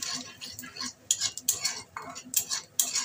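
Potol vorta mixture stirred in a pan, sharp metal spoon scrapes and clinks against the pan in irregular strokes, close and distinct over a faint background, with no one speaking.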